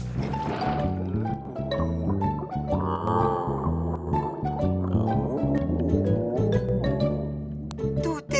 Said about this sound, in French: Ce n'est pas un grognement, c'est un gémissement, tu dois être malade.